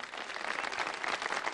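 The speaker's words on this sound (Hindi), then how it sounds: "तालियां तो बजा दें।" A studio audience at a Ramadan iftar prize show claps steadily, a dense, even patter of many hands that holds at a moderate level throughout without any talk over it.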